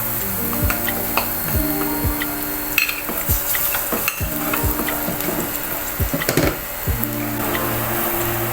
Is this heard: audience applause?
no